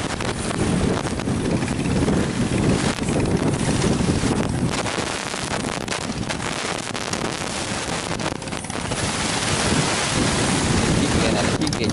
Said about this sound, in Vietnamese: qua mưa dòng dữ dằn luôn